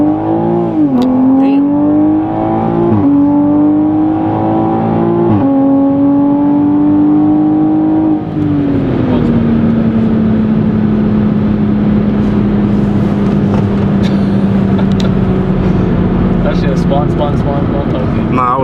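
A 500hp Toyota Supra revs repeatedly with rising and falling engine surges during a launch attempt, then settles into a long sustained high drone, loud and close, with voices talking over it.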